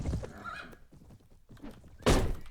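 A horse whinnies in a medieval battle in Mount & Blade Warband, a drawn-out cry followed by a sharp loud thud near the end, with clattering combat noise around it.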